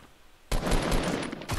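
Assault rifle fire in Fortnite: after a half-second lull, a loud, rapid automatic burst breaks out and keeps going to the end, sharp and close.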